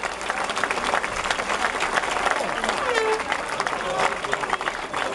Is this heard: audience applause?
yes